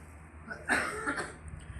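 A single short cough close by, followed by faint breathy rustling in a quiet room.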